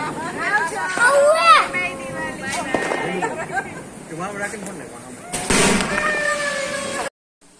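Diwali firecrackers bursting and popping in a few sharp bangs, with whistling and crackling between them, as people talk and shout nearby.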